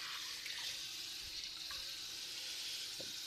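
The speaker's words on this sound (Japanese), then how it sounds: "水で洗いながら、" Water running steadily from a kitchen tap as produce is rinsed under it for a smoothie, a constant close splashing hiss with no talk.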